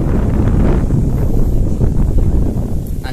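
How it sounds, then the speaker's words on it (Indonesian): Strong wind buffets the microphone beside a large fish pond flooded by tidal water, a steady loud rumble of gusts filling the whole stretch with no voices. "Anginnya kencang."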